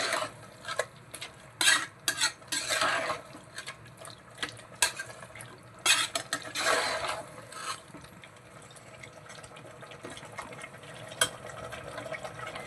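Mutton is stirred in a pan with a tempering of tomato, onion and green chilli, making scattered clinks and scrapes of a spoon against the vessel amid faint background noise, with no talking.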